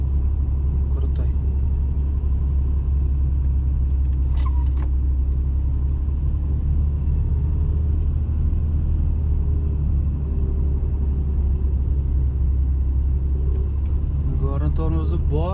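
A truck rolls downhill in a truck-driving video game, a steady low road rumble and engine drone running throughout at even loudness, with a few brief clicks near the end and no clear speech.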